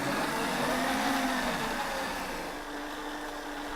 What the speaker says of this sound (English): And now I'm going to start whisking this together